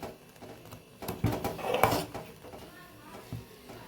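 A spoon stirs banana kadhi as it simmers in a pot, making soft scraping and a few louder knocks against the metal. Quiet speech may be present in the background.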